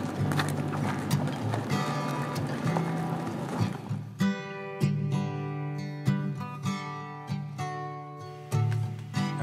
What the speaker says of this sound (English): I'd never encountered a pack of horses out roaming around